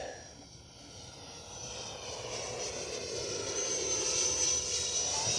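An FMS 80mm F-86 Sabre RC model jet flies overhead with a steady, rushing ducted-fan roar and high whine that swells gradually louder as it passes, continuous and unbroken.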